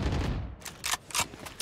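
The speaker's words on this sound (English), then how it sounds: "Those shots are crazy." Gunfire in Valorant, a rapid burst followed by several sharp separate shots with short gaps, close and fairly loud, with no talking.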